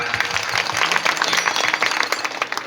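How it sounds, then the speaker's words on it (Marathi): Audience applause at a Shri Swami Samarth namasmaran and aarti gathering in Kokrud: dense, steady clapping from many hands, sustained throughout at a moderate level. "त्यांच्यासाठी जोरदार टाळ्या वाजवूया"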